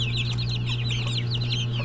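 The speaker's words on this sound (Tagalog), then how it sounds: "Ito yung pabo." Poultry in a crowded pen, with a turkey among them, clucking and chirping in quick overlapping bursts over a constant low hum, close and fairly loud.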